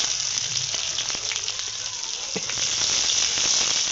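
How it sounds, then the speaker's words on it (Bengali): Chopped onion fries in hot oil with whole garam masala, two bay leaves, dried red chillies and cumin seeds for a potato and paneer curry. A dense, close sizzle continues steadily, with a few faint pops and scrapes, and no talking. "পেঁয়াজ একটু ভেজে নিয়েছি"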